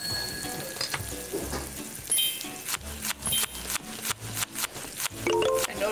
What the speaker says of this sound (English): Cook the bacon.